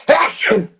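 A single short, forceful sneeze in two bursts, close and loud, from a comedian on an informal live chat.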